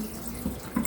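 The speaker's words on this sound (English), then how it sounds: "I'm going to add in some water" Water is poured briefly into a food processor holding a rogan josh mixture, giving a short, close trickling splash.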